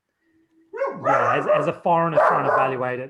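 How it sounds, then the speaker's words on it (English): A pet dog barks and yips several times in quick bursts, loud and close indoors, overlapping with someone talking. "sorry, my dog, that's my dog."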